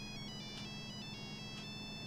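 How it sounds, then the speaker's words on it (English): A phone ringtone in the game Our Wonderland, a bright electronic melody of short repeating tones playing steadily in a quiet room over a low hum. "The brightly ringtone breaks the silence of the room"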